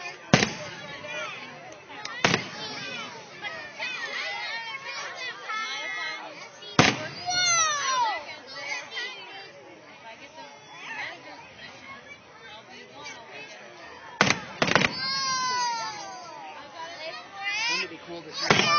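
Fireworks at an Honor America Day display, several sharp loud bangs spaced apart followed by crackling and whistling trails, with nearby people chattering throughout.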